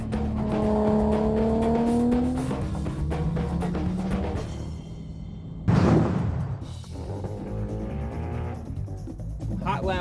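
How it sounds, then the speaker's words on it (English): Mitsubishi street car on a hot lap at a street car challenge, engine revving hard with rising harmonic sweeps through gear changes, a sharp loud burst midway, then continued acceleration; voices talk over it. "Hot lap for the Mitsubishi"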